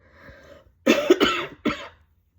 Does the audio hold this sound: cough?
yes